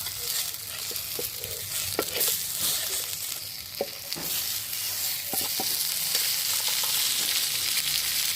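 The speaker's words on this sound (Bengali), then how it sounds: "দেখুন আমি একদম লো আছে এটাকে আস্তে আস্তে ফ্রাই করে নিচ্ছি" Masala-coated fish fries slowly over low heat on a flat iron tawa in mustard oil, giving a soft continuous sizzle broken by scattered pops and light utensil scrapes, close up with no talking.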